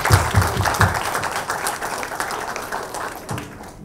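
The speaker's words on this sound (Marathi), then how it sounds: "या लोगोसाठी एक सगळ्यात पहिल्यांदा टाळ्या झाल्या पाहिजे" Audience applause at a women's awards ceremony, a dense burst of clapping that starts strong and gradually thins and fades toward the end, with no talk over it.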